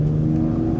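A BMW S58 six-cylinder engine hums close and loud in a brief, steady rev with a deep droning tone and no pauses.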